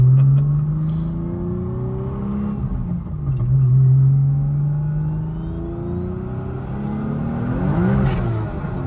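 Lexus IS300 cars, one making 1,000 hp and one 215 hp, accelerating side by side: rising engine notes climb and shift through gears, loud and close, ending with a high whine and a sharp gear change.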